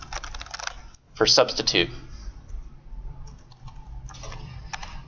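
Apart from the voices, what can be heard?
typing on a computer keyboard in the vim editor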